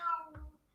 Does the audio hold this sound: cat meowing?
yes